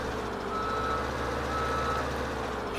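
Truck in Farming Simulator 17 reversing, a steady series of evenly spaced reversing beeps over a constant low engine rumble, moderately loud and with no talk.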